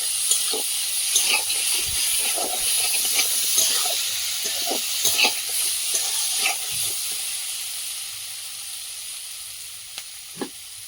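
Water is poured into sautéed taro curry in a hot pan, giving a loud hissing, steaming sizzle with scattered spatters and clinks that gradually settles and fades, no talking.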